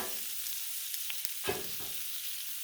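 Pierogi, kielbasa and cabbage frying on a Blackstone griddle, a steady close hiss of sizzling broken by a few light scrapes and clicks near the middle, with no talking.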